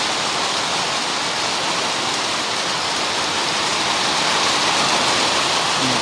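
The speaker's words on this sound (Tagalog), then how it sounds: "Sobrang lakas ng ulan. Grabe oh. Binubuhos lang ng todo." Heavy rain pours down hard and steady, a dense, loud, unbroken wash of water hitting surfaces close by, with no voices over it.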